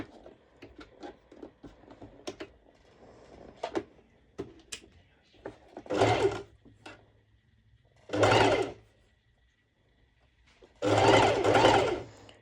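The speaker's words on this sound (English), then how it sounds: "and now I'm going to do a straight stitch over." A sewing machine running a long straight stitch through two layers of fabric with net overlay, in bursts: a short run, a pause, another run, then a longer steady whir near the end, close, with light handling clicks between.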